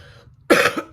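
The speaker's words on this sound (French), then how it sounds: "je tousse encore" A woman coughs once, a sharp loud burst followed by a shorter second catch, close to the microphone after a brief quiet pause.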